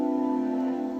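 Several keyboard notes struck together as one sustained chord for a West Coast style beat, a steady held tone ringing evenly for about a second with no voices.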